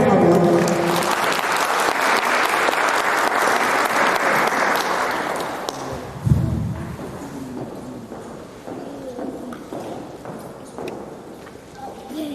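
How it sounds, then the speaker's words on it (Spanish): An audience applauds a speaker being introduced at a talk on stage fright, loud sustained clapping for several seconds that fades out, followed by quieter room noise and scattered shuffling. "Fuertes aplausos para él, por favor."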